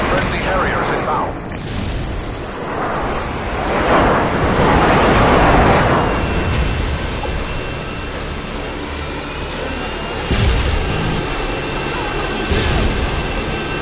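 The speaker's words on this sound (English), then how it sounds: "Friendly Harrier is inbound." Harrier jet airstrike in Call of Duty Modern Warfare 2 on the Favela map during team deathmatch: a loud roaring jet pass with booming blasts that swell mid-clip, over continuous game noise with a voice speaking.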